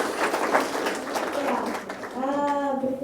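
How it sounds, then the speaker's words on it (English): Audience applause after a technology talk by the Go-Jek CEO, a dense wash of clapping across a hall lasting a few seconds, with a voice speaking over it toward the end. "Please applause."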